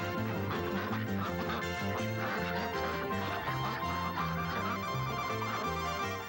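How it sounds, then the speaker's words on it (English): Ducks quacking over a dense, busy musical backdrop that runs continuously, the calls blending in at a steady level without any speech. "Stray video showing ducks, sir."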